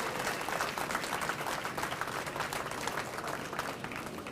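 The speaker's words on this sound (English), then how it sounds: "Give a round of applause for all this great group of people." Steady audience applause at a Larry Hogan campaign event, dense continuous clapping from a crowd filling the whole stretch at an even level.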